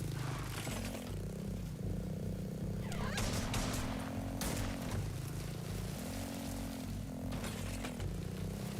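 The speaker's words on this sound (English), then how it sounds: "Alright, so these are the birds." Birds in the video game Laika: Aged Through Blood make gobbling, turkey-like calls in repeated bursts over a constant engine-like drone and game music, with no speech.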